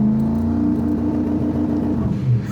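A 1000 hp turbocharged Trans Am held on the trans brake at full throttle, engine droning loud and steady up close, with a rumbling rise in the last half second.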